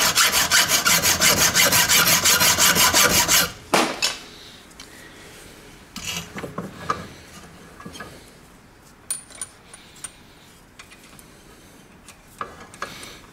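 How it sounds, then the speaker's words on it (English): A linishing wheel grinds and sands parts of an 1865 Forster & Andrews pipe organ during restoration, a loud rough abrasive rasp for a few seconds, then scattered clicks, taps and rubbing in a quieter workshop. "And then we're going to go over to the linishing wheel."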